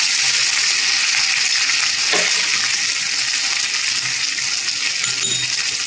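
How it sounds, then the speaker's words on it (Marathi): Curry leaves and green chilies are dropped into hot oil with fennel seeds, giving a steady, close, bright sizzle and hiss throughout, with a brief spatter partway through. "आता त्याच्यात आपण कढीपत्ता घालून घेऊ. मिरच्या घालून घेऊया."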